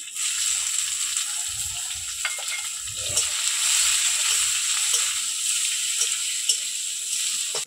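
Cumin seeds, bay leaf and chopped onion sizzling in hot oil in a pan, a loud continuous hiss with crackles and occasional stirring scrapes, close up and without speech.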